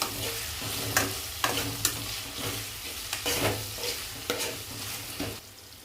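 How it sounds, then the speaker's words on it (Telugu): Ginger paste fries in a kadai for a simple chicken curry, steady sizzling broken by repeated sharp stirring scrapes and knocks, close and loud, fading slightly at the end with no voices. "అల్లం పేస్టు పచ్చి వాసన పోయేంత వరకు వేయించుకుందాం."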